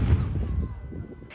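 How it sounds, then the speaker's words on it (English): A deep, booming cannon blast at a Wild West rodeo celebration, a heavy low thump at the start that rolls off into a fading rumble. "And what better way to start than with a cannon blast?"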